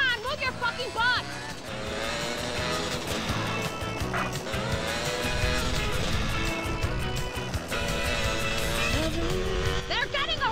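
Car driving in the video game Grand Theft Auto: San Andreas, a loud continuous engine roar with tire squeals, gunfire-like bursts and shouting voices over game music throughout.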